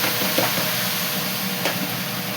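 Onions, tomatoes and green chillies sizzle steadily in an oiled pan, a constant hissing fry with small crackles and pops, close and alone.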